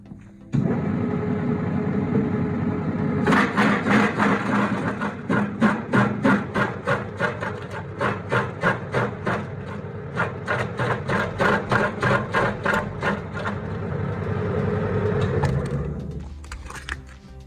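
An STvega industrial vegetable dicer starts up and runs while cutting carrots into cubes, a motor hum under a fast, regular chopping clatter of repeated blade strikes that stops abruptly near the end.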